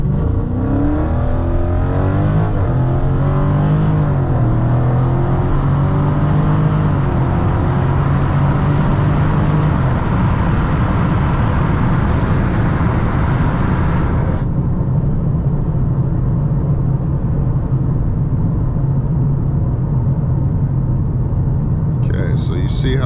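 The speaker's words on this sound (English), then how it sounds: "we're gonna go ahead and bring it up to 1800 RPMs" A 392 Scat Pack engine on launch control climbs to 1800 RPM and holds there as a loud, steady V8 drone close by, then the upper tones cut out and a deep idle-like rumble remains.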